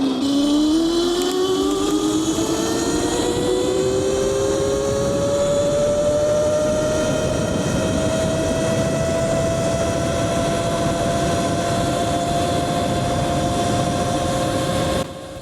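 A 60V Qronge X1 Spark electric bike runs flat out with a loud motor whine that climbs steadily in pitch, then holds a high, steady tone alongside rushing wind until it drops off at the very end.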